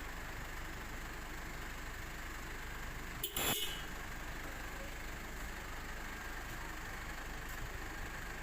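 A single short car horn honk sounds over the steady rumble of an idling engine.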